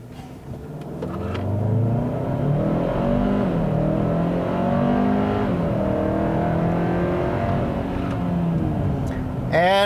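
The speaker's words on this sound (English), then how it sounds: "let's go ahead and test out the 0 to 60 of this truck" A 2022 Hyundai Santa Cruz turbo all-wheel-drive pickup accelerates hard from a standstill in a 0 to 60 run. The engine climbs loudly through the gears with clear shift dips, heard from inside the cab, and a voice joins near the end.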